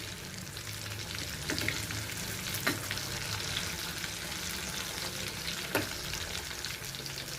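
Masala-coated fish fries in a pan with a dense, even crackling sizzle, close and moderately quiet, with a few brief clinks and scrapes of a utensil turning the pieces; no talking.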